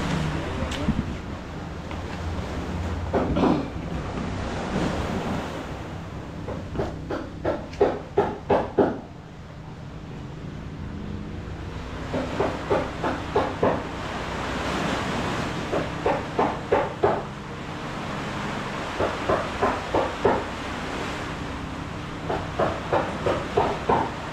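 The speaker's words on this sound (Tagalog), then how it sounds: "nagwawala ng alon" Rough surf crashes and hisses continuously, with a rhythmic clatter of knocking or rattling bursts repeating through the roar; a voice speaks briefly early on.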